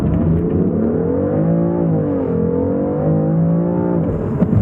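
A BMW M3 sports car accelerating hard during an acceleration test, its engine note climbing through the revs loud and close, with a brief dip as it shifts gear before pulling again.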